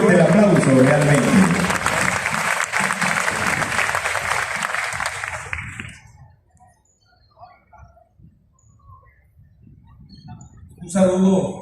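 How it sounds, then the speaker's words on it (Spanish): Strong, sustained applause from a crowd welcoming a professor at a panel discussion on social reforms, loud and dense for about six seconds before fading to near silence, with a brief burst of noise at the end. "Un fuerte aplauso de bienvenida"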